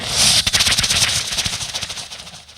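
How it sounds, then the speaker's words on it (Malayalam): A rapid string of loud firecracker-like bursts from celebratory fireworks crackles close by, fading gradually over a couple of seconds. "അത് വെടിക്കെട്ടിന്റെ ശബ്ദമുണ്ട്"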